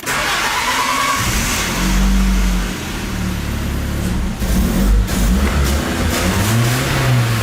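Worn-out engine swapped into an old car, running close by with blips of revving that rise and fall, then stumbling and choking unevenly while still holding its idle.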